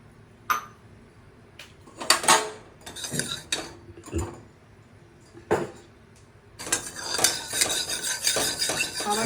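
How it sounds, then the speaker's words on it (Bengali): Paneer is stirred in oil in a wok, a metal utensil scraping and clinking against the pan in scattered strokes, then a louder sizzling, clattering stretch near the end, with no talking. "আবার তেল দিয়েছি কড়াইতে"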